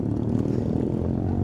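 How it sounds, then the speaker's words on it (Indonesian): A jet airplane passes high over a mountain trail, heard as a steady, broad, distant roar with no talk. "Itu ada pesawat jet."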